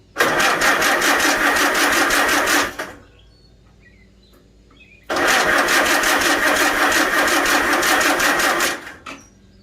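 A Farmall Super A tractor engine rattles loudly and close with the throttle opened, in two long bursts of clattering mechanical noise separated by a quiet pause of a few seconds.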